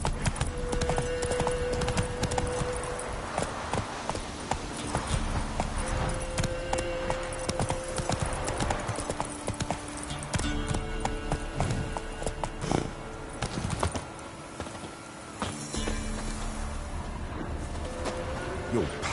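Horse hooves clip-clop in a steady trotting rhythm in The Witcher video game, close and prominent, with game music and ambient tones running underneath.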